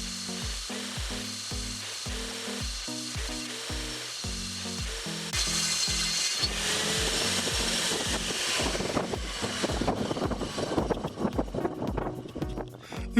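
A saw cuts black locust wood boards for battens in a close, loud sequence: a rhythmic series of regular thumps and passes, then dense rasping, crackling cutting noise that grows busier toward the end.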